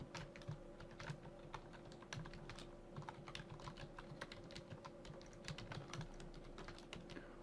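Steady typing on a computer keyboard, fast irregular key clicks close and quiet over a low background hum, with no talking.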